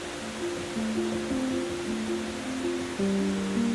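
A Norwegian waterfall gives a steady, broadband rushing roar that holds evenly throughout, with soft stepped musical tones layered over the water noise.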